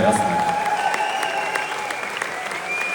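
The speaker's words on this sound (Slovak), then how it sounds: "to chce potlesk, to je jasné" Audience applause, a steady patter of many hands clapping throughout, moderately loud and slightly distant, with a sustained musical tone ringing over it.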